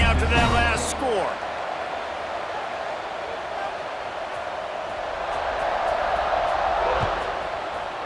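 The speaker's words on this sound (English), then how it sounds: "this crowd is buzzing after that last score" A football stadium crowd hums with a broad, steady roar after a score, swelling slightly toward the end, while brief voices and a whistle-like tone appear at the start.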